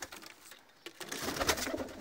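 Soft, low pigeon coos close by in Hazro, Attock, faint and brief, with light rustling around them.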